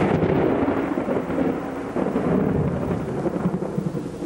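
Loud, continuous rolling thunder from close lightning strikes over pouring rain, a deep sustained rumble that swells and fades slightly without pause.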